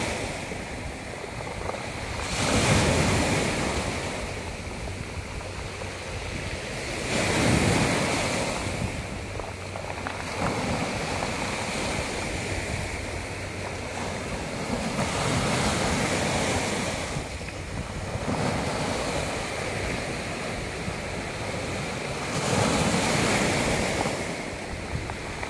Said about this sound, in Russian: послушайте, как камни трещат